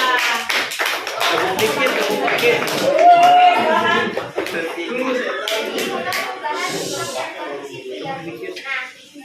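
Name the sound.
applause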